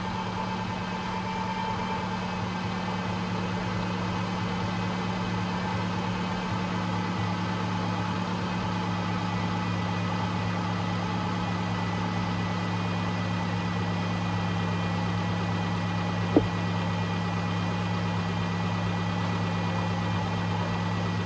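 A 2010 Subaru Forester with an oil-leaking valve cover idles smoothly and steadily, a constant low hum with a faint tonal whine and one brief click near the end, no voices.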